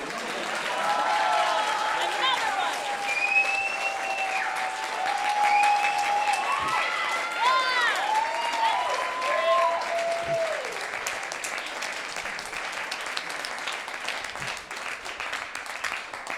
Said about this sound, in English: Can we get a final round of applause?